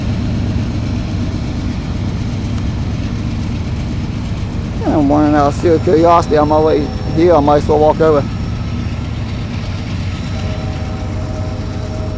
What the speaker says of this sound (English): that was a really long train